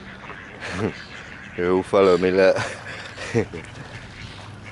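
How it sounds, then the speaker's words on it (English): Mallard ducks quack a few times at close range by the water, short nasal calls coming in brief clusters while someone talks over them. "there's a purple-headed mallard duck there"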